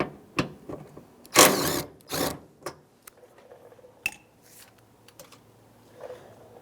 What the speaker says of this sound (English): So what we're going to do is back out this 10mm bolt.